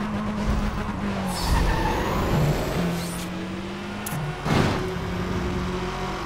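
An Audi A3 3.2 Quattro engine in Need for Speed World roars and revs with tire screeches and shifting engine pitch, loud and close, with no talking.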